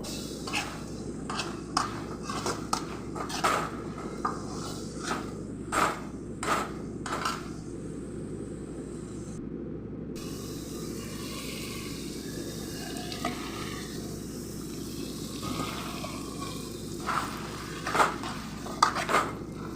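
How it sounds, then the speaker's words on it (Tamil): Mashed lentils are stirred in a pot on low heat while a bottle gourd kootu cooks, with repeated spoon scrapes and knocks against the metal over a low simmering bubble, some faster stirring bursts, and no talking. "இப்போ நல்லா கலக்கி விடுங்க. அடி பிடிக்காமல் கலக்கி விடுங்க."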